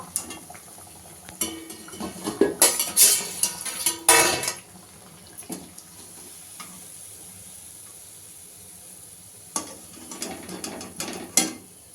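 Fried bread pakoda is lifted out of a sizzling pan onto a plate, with scraping and clinking utensil sounds in two short clusters over a quiet background.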